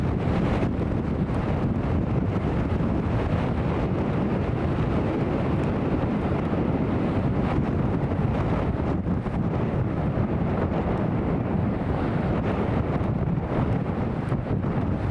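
Strong crosswind buffeting the microphone at an airport viewing spot during landings at Newcastle International Airport, a loud, constant low rumbling roar with gusty fluctuations throughout and no talk.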